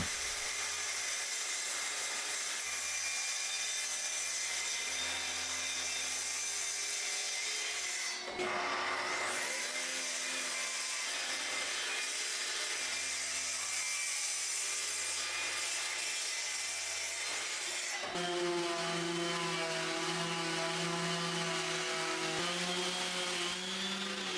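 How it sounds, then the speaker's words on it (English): A track saw cutting through glued-up pallet wood, a steady loud whining roar that runs on without a break, pitch shifting as the blade bites deeper, with a brief dip near the middle. "Then I'm going to get it cut down to roughly to size using the track saw"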